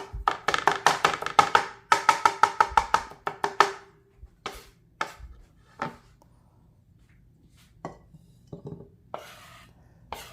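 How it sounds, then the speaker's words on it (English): A knife chops fresh salsa ingredients on a cutting board in rapid, close, sharp taps in two fast bursts, then slows to scattered occasional strikes and quiet shuffling. "So here's where I start chopping it a lot."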